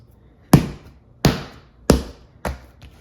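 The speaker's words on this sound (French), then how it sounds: "on va littéralement donner un coup de poing dans la pâte pour libérer l'air de la pâte" Homemade bread dough is punched down with the fist to release its air, giving four firm, evenly spaced thuds close up in a quiet kitchen.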